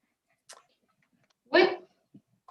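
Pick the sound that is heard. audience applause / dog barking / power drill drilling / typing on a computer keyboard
dog barking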